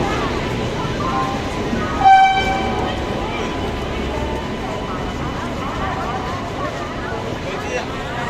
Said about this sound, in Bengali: সামনে মাত্র ট্রেন হাওড়াতে দাঁড়ালো